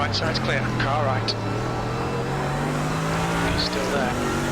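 Mercedes-AMG GT3 race car engine droning loud and steady in iRacing as it climbs through a gear, with another car running alongside on the right, under a driver's voice.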